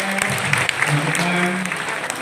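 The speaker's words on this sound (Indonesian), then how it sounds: "tepuk tangan buat ketua MKKS dan K3S" Attendees at a school exhibition visit in Indonesia give a short burst of applause for education officials, dense clapping under a speaking voice.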